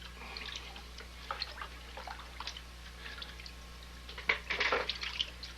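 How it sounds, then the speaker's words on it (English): Two parts, a JPX and a Z, are swished by hand in a bucket of cold tap water, giving soft sloshing and dripping that builds into a brief burst of splashing near the end, quiet and close with no talk. "In the rinse, I have the JPX in my left hand, the Z on my right, and we'll swish them around a little bit."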